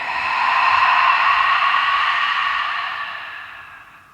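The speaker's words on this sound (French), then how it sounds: "Longue expire par la bouche." One long, breathy exhale through the mouth during a morning vinyasa yoga breathing exercise, close and airy, swelling gently and fading away over about four seconds with no talk.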